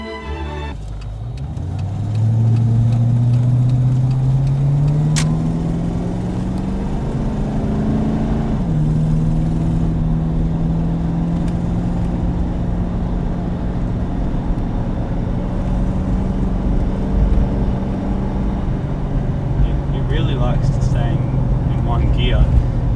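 Ford Falcon Interceptor engine droning steadily while driving, with a rising and falling pitch as revs build toward a shift, loud and close from inside the cabin throughout.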